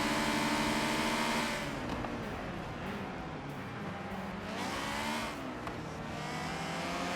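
Subaru BRZ and Honda S2000 race cars accelerate on a race track at Homestead, a continuous engine drone rising in pitch as they power out of a corner, loud and close throughout.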